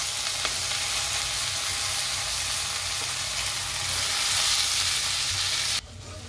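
Grated coconut sautéing in a pan for a South Indian chicken white kurma, a steady close sizzle and frying hiss that holds evenly, then drops abruptly near the end.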